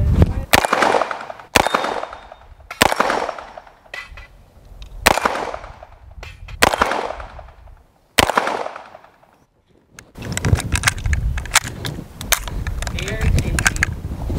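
An HK SP5K semi-automatic 9mm carbine fires six loud, sharp single shots spaced a second or two apart outdoors, each with a short decaying echo, followed by a burst of rustling handling noise and movement.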